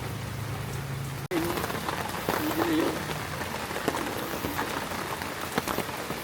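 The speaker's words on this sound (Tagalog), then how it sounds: "baka lalo pong umulan" Rain patters steadily on a vehicle during a road trip to Infanta, a dense close hiss with scattered drops and a sharp knock early on, while voices are faintly heard beneath.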